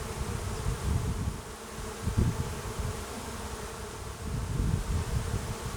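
Honeybees buzz steadily around an open hive during a queen replacement on a Ukrainian-Alpine hive, a dense, continuous hum close to the microphone with no voices.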